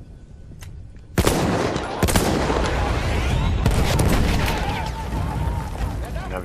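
Gunfire in the video game Battlefield 1: loud sharp shots crack out around 1.2 and 2 seconds, followed by sustained rattling fire and booming battle noise that continues to the end.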